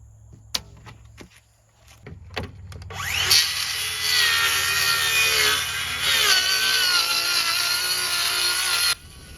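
Power saw cutting LP Smart Siding plywood for soffit, working on the smooth side; a few sharp knocks first, then a loud steady buzzing cut runs about six seconds and stops abruptly.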